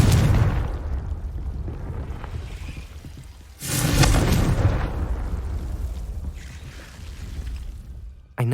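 A Confringo fire-blast spell from Hogwarts Legacy bursts loudly partway through, with a broad whooshing explosion that fades into a sustained rumble over continuous game ambience.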